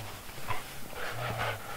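A dog making small whines and snuffling noises while winter camping during wet snowfall, brief close sounds with a soft low murmur underneath, no talk heard.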